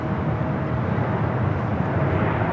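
A United Airbus A321neo arriving at LAX, heard as a steady, broad roar of jet engines throughout, moderately loud and continuous with no talk over it.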